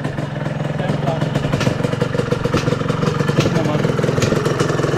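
A motorcycle engine idles close by with a steady low rumble and light mechanical clatter, running continuously on a mountain trail ride.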